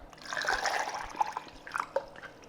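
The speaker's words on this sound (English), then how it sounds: "we're going to top the whole thing off with some simple tap water" Plain tap water pours into a blender jar holding raw organ meat and eggs, a steady close trickle and splash running about two seconds with a few brighter drips near the end.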